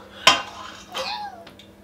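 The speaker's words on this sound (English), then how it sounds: "I now have to stir this on a low heat for 7 minutes." A spoon clanks sharply against a pan of toffee mixture on low heat, then scrapes more softly a moment later. A faint high tonal sound rises briefly in the quiet background.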